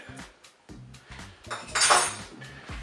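Ingredients stirred inside a Cookeo pot for quails in red wine, a run of clinking, knocking utensil strokes against the pot, close and fairly quiet, with a brief louder scrape midway.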